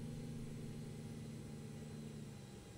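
Auxiliary power unit of a BAe 146 airliner in a flight simulator, a faint steady mechanical hum with a constant low tone running in the background for a few seconds, no speech.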